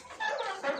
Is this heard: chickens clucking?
yes